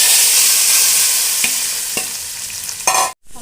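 Hot tempering of cumin, dried red chillies and curry leaves poured into cooked dal for sambar, giving a loud steady sizzle with a few sharp stirring clinks, ending in a burst of spattering before a brief silence.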